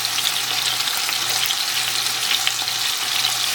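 Seasoned chicken fries in a pan with a steady, dense, close sizzle and crackle that holds even throughout, with no voices.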